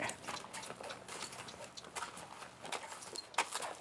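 A cow horse's hooves strike the ground in a loose, irregular clip-clop rhythm, close and moderately loud over soft background noise, with no voices.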